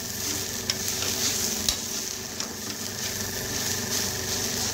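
Okra and coconut stir-frying in a pan, a steady close sizzle with scraping stir strokes and occasional clicks of the spatula, no voices.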